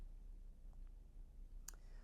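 A single crisp computer mouse click sounds close and clear in a quiet room, with a couple of fainter ticks before it.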